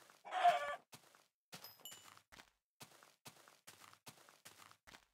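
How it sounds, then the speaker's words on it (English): Chickens clucking in a video game, a few short bursts of clucks with scattered soft clicks and taps between them, fairly faint, with no speech. "chicken egg. That means chickens."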